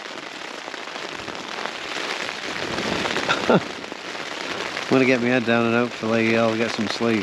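Relentless rain hammers a tent during a solo camping night on top of Kinder, a dense close patter with occasional heavier drops, as someone speaks quietly over it toward the end.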